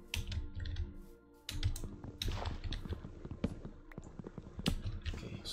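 Rapid typing on a full-size Razer keyboard, close and crisp, with irregular bursts of key clacks and short pauses while a Minecraft game plays.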